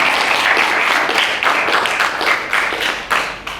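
An audience at a youth forum with Ahn Cheol-soo claps steadily, a dense, fairly close burst of applause that swells slightly before tapering.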